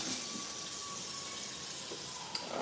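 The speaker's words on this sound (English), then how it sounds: "I'm gonna fill this back up." Tap water running steadily into a cooking pot at a kitchen sink for breakfast polenta, a continuous close hiss of flow with a small clink near the end.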